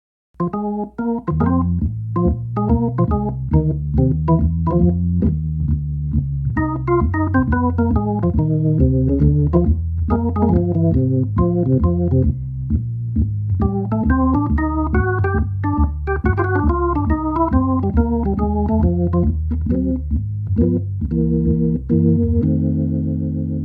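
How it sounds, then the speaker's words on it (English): Hammond organ with percussion on and all four lower drawbars out plays a lively melody over sustained chords, each note opening with a crisp percussive click, continuous and alone for over twenty seconds. "That's with percussion on and all four lower drawbars out."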